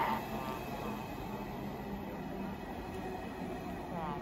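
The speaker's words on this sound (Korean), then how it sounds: "이렇게 또 KTX를 탔습니다" Steady interior rumble of a KTX high-speed train in motion, continuous low track and carriage noise with a faint high whine, no voices.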